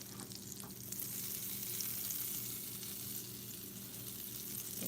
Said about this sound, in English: Get this butter all around the pan